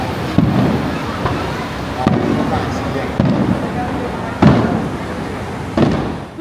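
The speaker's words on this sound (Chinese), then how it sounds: "晚上还有美丽的烟火秀登场" Fireworks burst over the Keelung ocean eagle carnival at night: loud booming blasts arrive every second or so over a steady crowd din, with fainter crackles between the big bangs.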